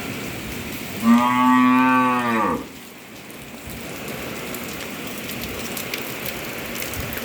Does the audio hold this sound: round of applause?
no